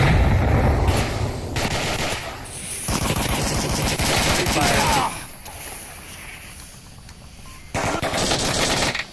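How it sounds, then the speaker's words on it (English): Loud, dense pistol and rifle gunfire in the Onward VR shooter during a competitive match, sustained bursts of rapid shots with brief lulls between volleys. "Oh gosh, a pistol kill."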